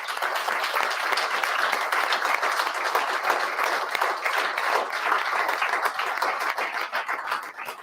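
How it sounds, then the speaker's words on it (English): Sustained audience applause at a live event at Trefelin BGC, many hands clapping steadily and densely for the full stretch with no voices on top. "finish this set with a round of applause for Kevin Davis"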